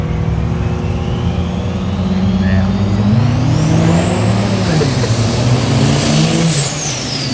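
A Cummins diesel truck revs hard at a truck sprint event at the Chestertown Elks Lodge, a loud, close engine roar climbing in pitch and then dropping, with crowd voices underneath.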